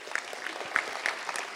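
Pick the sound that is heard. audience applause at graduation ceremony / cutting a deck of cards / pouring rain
audience applause at graduation ceremony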